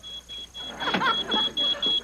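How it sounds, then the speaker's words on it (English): A high electronic smoke alarm beeps in a steady repeating pattern, with people talking over it partway through. "That sounds like the smoke alarm."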